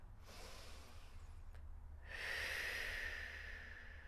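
Slow, deep breaths during a Pilates stretch on a foam roller: a soft drawn-in inhale, then a longer, louder airy exhale that swells at mid-clip, close and alone with no talking.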